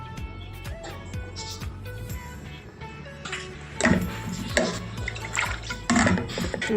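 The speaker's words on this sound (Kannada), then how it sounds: "ಸ್ವಲ್ಪ ನೀರು ಹಾಕ್ತಾಯಿದ್ದೀನಿ." Water is poured into a cooking pot of soaked chickpeas being boiled with salt for chana masala gravy, splashing in uneven bursts mixed with clinks of metal, close and moderately loud with no talking.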